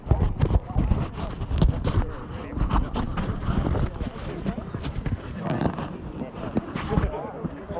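Horses pound across the ground at a Battle of Evesham reenactment, a continuous rumble of heavy hoofbeats amid wind noise, with people talking over the top.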